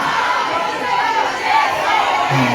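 Concert audience in a Warsaw club hall shouting out song requests, a dense continuous wash of overlapping voices and calls filling the room at steady loudness.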